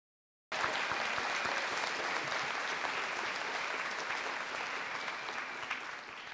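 An audience at an Akron Public Schools State of the System event breaks into full applause after half a second of silence. The steady, dense clapping continues and fades only slightly by the end.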